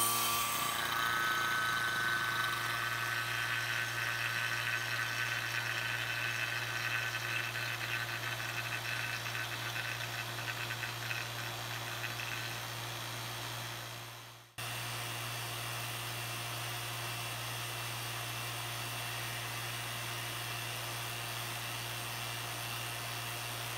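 An HVAC vacuum pump evacuating a jar down to 500 microns hums steadily with a strong low drone and a high whine, running alone, then cuts briefly and resumes at a slightly lower level.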